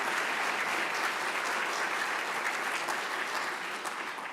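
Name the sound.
audience applause for Uyghur activists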